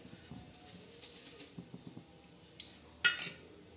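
Cumin and mustard seeds crackle in hot oil in a kadai, a run of faint, scattered pops and light spatters, with a couple of sharper clinks near the end.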